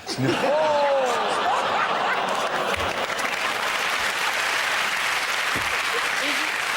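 Studio audience at a British comedy panel show bursting into applause mixed with laughter, loud and sustained after a brief voice at the start.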